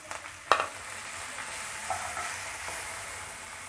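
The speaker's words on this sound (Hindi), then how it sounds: "अब हमने जो प्याज लिया था लंबा लंबा और हरी मिर्च काट के जो लिया था, वो हम फ्राई कर लेंगे" Sliced onions and chopped green chillies frying in oil with browned cumin for a restaurant-style mixed vegetable dish, a steady close sizzle with a sharp clatter of stirring near the start and no talk.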